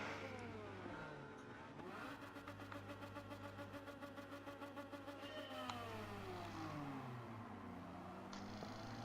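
A Kei car engine at full throttle in Gran Turismo 7 at Kyoto Driving Park, a quiet, buzzy, high-pitched whine that rises and falls through gear changes, with a steady pulsing drone.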